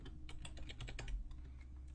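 Fast typing on a computer keyboard, a quick run of close, crisp key clicks with no talk over it.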